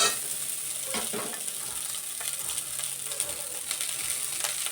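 Steady sizzling of cooked rice frying in a pan, with scraping stirring sounds scattered throughout; no voices.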